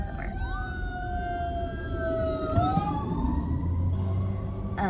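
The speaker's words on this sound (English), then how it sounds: "fire trucks going somewhere." Several fire trucks pass with wailing sirens that rise and fall in pitch and overlap, moderately distant over a background rumble of traffic.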